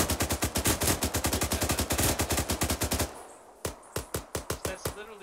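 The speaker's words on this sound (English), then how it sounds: "Return fire!" Automatic gunfire in the combat game ArmA 3, a sustained rapid burst for about three seconds followed by scattered single and double shots, loud and close.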